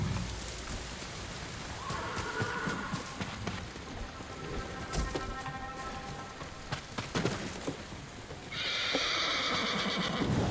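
Horses whinny a few times amid clip-clopping hooves and clattering game noise in Ghost of Tsushima, with a steady rushing hiss rising near the end.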